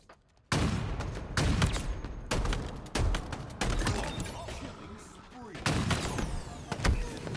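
Gunfire in Halo Infinite during a competitive HCS Major match, loud repeated shotgun-like blasts and bursts in quick succession with game effects, alone without talk.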